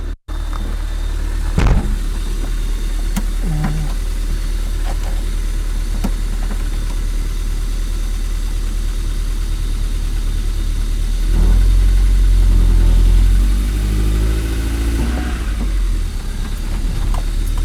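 An MG TF car engine running during a brake test after replacing the brake lines, a loud steady mid-pitched drone close up, with a brief knock near the start and a stronger surge and rumble partway through.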